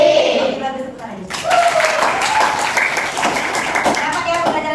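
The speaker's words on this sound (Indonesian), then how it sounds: "Oke, bagus, tepuk tangan." A classroom of students claps together after a teacher's practice lesson, a dense burst of hand claps that starts abruptly and continues steadily, with a voice talking over it.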